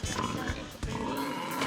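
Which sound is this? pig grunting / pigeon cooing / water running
pig grunting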